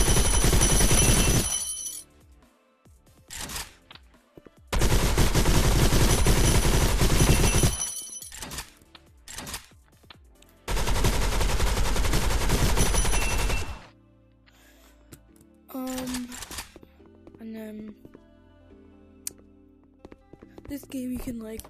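Dual-wielded SMGs fire in the video game Gun Raiders in three long, dense bursts of rapid gunfire separated by brief pauses, followed by quieter clicks and game sounds.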